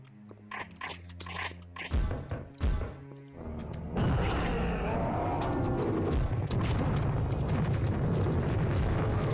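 Grenade launcher explosions in the video game Serious Sam: a few sharp, heavy blasts early on, then a continuous loud roar of explosions and combat that fills the rest of the clip.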